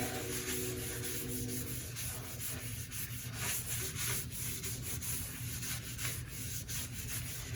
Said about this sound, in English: we're going to go on with some sanding sealer just to protect it from getting CA staining.